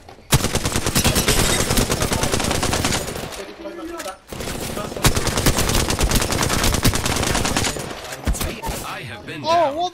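Automatic gunfire in a video game rattles loud and close in long continuous bursts with a short pause in between, while players talk briefly underneath.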